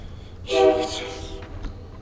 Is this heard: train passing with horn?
yes